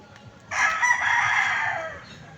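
A single loud rooster crow lasting over a second, rising then trailing off, close by over faint background noise.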